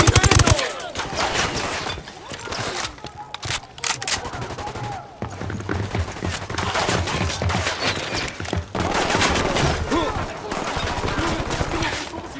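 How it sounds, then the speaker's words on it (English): Sustained automatic gunfire from the video game Tom Clancy's Ghost Recon, with rapid overlapping bursts and single shots rattling almost continuously for several seconds, loud and close, with voices shouting over the firefight. "I'm opening fire on these shitheads."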